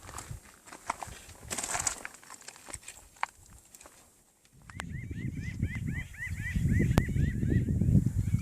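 Crows cawing in a rapid, repeated series that echoes off canyon walls in the Mojave Desert over a low rumble of outdoor noise, after a quieter stretch with scattered faint sounds.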